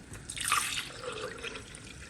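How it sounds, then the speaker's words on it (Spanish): Water is poured into a blender in a home kitchen, a soft brief splash and trickle of liquid that rises and then tapers off, quiet and close. "En la licuadora voy a agregar agua."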